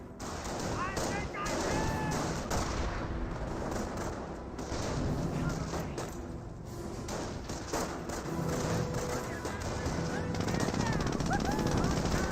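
Sustained machine gun bursts and rifle shots from a WWII infantry battle in Company of Heroes, with Riflemen advancing on an MG bunker; dense, continuous gunfire and thuds fill the whole stretch while a commentator talks over it.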